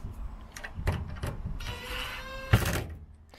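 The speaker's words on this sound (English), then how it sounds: "This Makita Impact is really controllable." Makita impact driver nipping up fittings into plastic on a Peugeot J9 coffee van, several short bursts of whirring and rattling impacts separated by brief pauses, close by with no talk.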